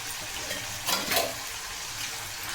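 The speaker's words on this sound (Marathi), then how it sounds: "एक मिनिटभर परतून घ्यायचं आहे याला पण तेलामध्ये" Ginger-garlic paste sautés in hot oil for Kolhapuri misal, a steady close sizzle with a couple of brief louder bursts as it is stirred.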